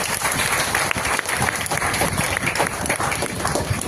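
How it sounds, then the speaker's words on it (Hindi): Crowd at a business motivational event applauding, a steady, dense clapping roar lasting several seconds with occasional sharper individual claps standing out, fairly loud and without speech over it. "एक बार उनके लिए भी ताली बजाइए।"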